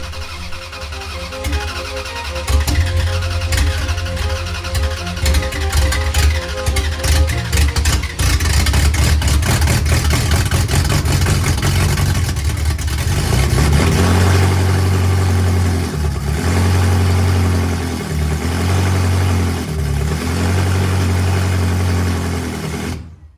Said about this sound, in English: I turned the key and let it ride.